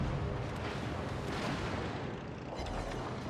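Dense, continuous booming gunfire from a destroyer's guns in World of Warships, a steady rumbling barrage of overlapping blasts at high level with no pauses.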